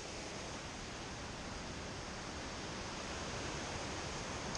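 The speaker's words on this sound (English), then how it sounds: "Nice little waterfall action going on." Steady rushing water from a small waterfall near the Lake Constance trailhead, a constant broad hiss heard alone at a moderate distance with no voices.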